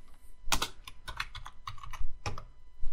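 Crisp clicks and clatter of a computer keyboard as a terminal command is typed, a run of close, irregular keystrokes with short pauses and a few heavier presses, no voices.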